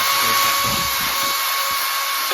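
A plumber's power drill runs steadily in a domestic plumbing job, a continuous high-pitched whine with a fixed tone, close and loud throughout.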